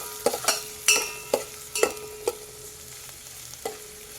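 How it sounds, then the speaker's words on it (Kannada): A quarter portion of onion lightly frying in a pan on a low gas flame for almond soup, with a soft faint sizzle broken by a handful of sharp spoon taps and scrapes, close and with no voices. "ಇದನ್ನು ಲೈಟಾಗಿ ಫ್ರೈ ಮಾಡ್ಕೊಳ್ಳೋಣ."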